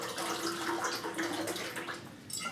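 Water poured out of an upturned cup into a container, a steady splashing trickle that runs close and fairly quiet, ending with a brighter splash.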